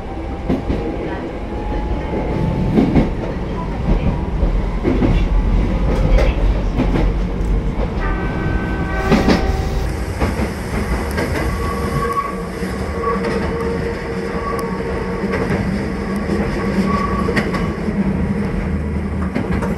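Rumbling interior of a moving train passing in and out of tunnels, with a constant rolling roar, rattling, and brief squeals and tones from the wheels and cars.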